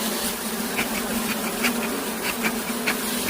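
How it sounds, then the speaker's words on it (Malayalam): Honeybees swarm around an open hive during a honey harvest as smoke is applied, a loud, dense, continuous buzz with individual bees zipping past close by. "പുകയടിക്കുമ്പോൾ ഇറങ്ങിപ്പോകുന്ന തേനീച്ചകളിൽ നേരെ കൂട്ടിലേക്ക് തന്നെ പോകും"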